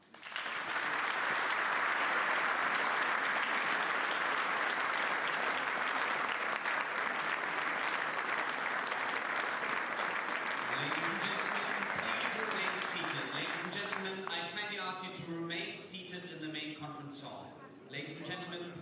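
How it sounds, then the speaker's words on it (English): Sustained applause fills a large conference hall. The dense clapping is loud at first and thins out toward the end, while a voice begins speaking over it. "Let's offer a round of applause."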